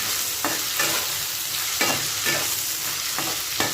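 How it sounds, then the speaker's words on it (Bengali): Cauliflower and potatoes sizzle steadily in hot oil, with periodic scraping and stirring strokes from a spatula cutting through the constant frying hiss. "এখানে মাংসির জন্য অল্প করে ফুলকপি আলু ভেজে দিচ্ছি"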